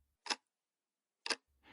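Two crisp clock ticks about a second apart ring out in an otherwise silent flat at night with heavy rain outside, with a third just beginning at the end.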